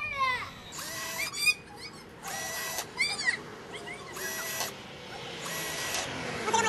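A small drill bit boring little pilot holes into an alpine snowboard riser, heard as several separate whirring bursts of a second or so each, close and fairly loud against a quiet room, with no talk.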